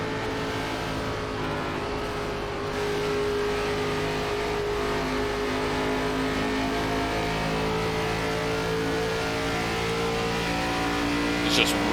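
Steady engine drone of an ARCA stock car in the iRacing NASCAR sim on the Motegi oval, holding a sustained tone and shifting pitch slightly as it exits the corner, with a voice talking over it.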